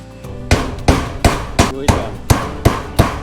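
Nails being hammered into wood while building a goat house: about eight sharp, evenly spaced hammer blows, close and loud, each with a short ringing decay.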